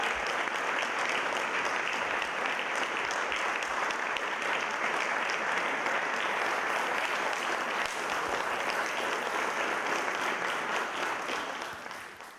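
Steady, sustained audience applause following a song in the finale of an Italian singing contest, a dense wash of clapping lasting several seconds before tapering off at the close.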